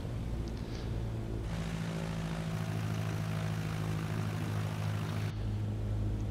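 Light aircraft propeller engine running at high power with the brakes held in the MSFS2020 flight simulator, a steady loud droning hum that swells slightly midway, with no talk.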